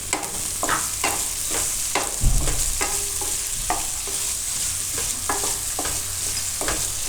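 Green chillies sizzle and fry in a pan for a Gujarati potato-and-chilli curry, with a steady hiss broken by repeated scraping stirs and clinks of a spoon, close and fairly loud throughout.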